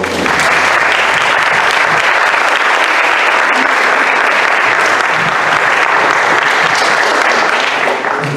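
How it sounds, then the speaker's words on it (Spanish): An audience at a round-table commemoration bursts into loud, sustained applause, dense clapping that holds steady throughout without any speech over it. "Recibámonos con un aplauso,"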